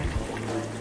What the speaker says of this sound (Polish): Aha, patrzcie, napełniliśmy wodą.